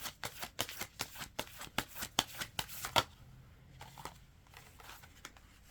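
A deck of cards is riffled and shuffled by hand in a quick run of about a dozen crisp close flutters, then a few softer card handling sounds, with no talking.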